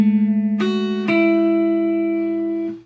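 Guitar chord strummed once and left ringing, then a couple of brief added attacks, sustained notes slowly decaying, played alone without any voice.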